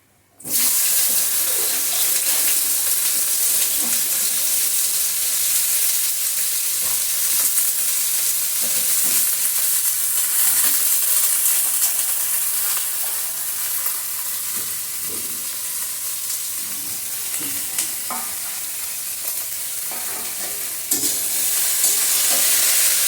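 Chopped spiny gourd and potatoes frying in oil in a wok over dried chillies and nigella seed tempering, a steady loud hiss and sizzle that lasts throughout, with occasional stirring clatter and no talk.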